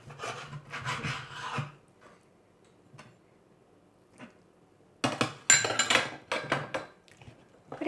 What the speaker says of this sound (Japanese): 生ハムは切り落としなんですけれども、ざっくりと切っておきます。